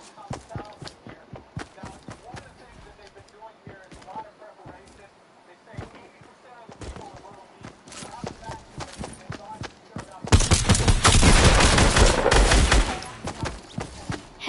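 Rapid gunfire from sniping in a video game bursts out loud and dense near the end, after scattered sharp shots and clicks under a speaking voice.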